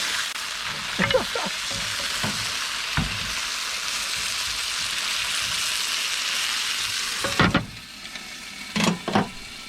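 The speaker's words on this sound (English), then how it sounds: "We're cooking up some packet ribs and veggies." Packet ribs and vegetables frying at a riverside caravan campsite, a steady broad sizzle running throughout with a few sharp clicks and taps of utensils near the end, no talk.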